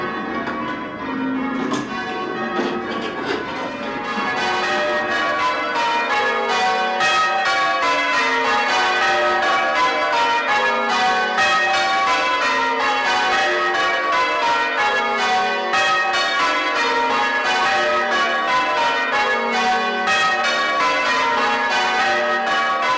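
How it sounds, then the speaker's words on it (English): Six church bells ringing rounds, a steady cascading descending sequence of clear metallic strikes repeating evenly for a long stretch, loud and close with no talk. "ring rounds on 6 bells"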